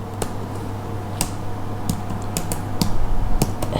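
Keys tapped on a computer keyboard while typing Java code, a quiet run of sharp clicks in an uneven rhythm over a steady low fan hum, with a denser burst of keystrokes toward the end.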